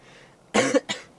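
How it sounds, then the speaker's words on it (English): Two short coughs from a person with a cold, one harsh and one lighter, close to the microphone in an otherwise quiet room. "Excuse my hacking and coughing."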